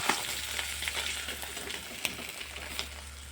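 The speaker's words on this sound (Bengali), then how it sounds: "বাকি মাছগুলোও ঠিক একইভাবে ভাজবো" Small hilsa fish sizzle steadily in hot oil in a kadai, a dense continuous crackle with scattered sharper pops and spits, close and fairly loud, no voices.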